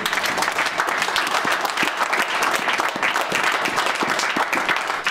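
A church congregation applauds the Lord, dense sustained clapping from a crowd, loud and continuous throughout with no talk over it.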